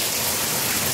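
Steady rain falls close by in an even hiss of drops with no breaks and no voices over it.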